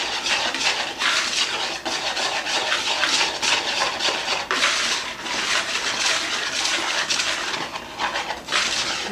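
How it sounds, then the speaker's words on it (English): Salt, sugar and baking powder being whisked into flour in a bowl for pastry dough, a continuous brisk scraping and rustling in quick repeated strokes, close and fairly loud, with no talk. "I'm just going to whisk this together"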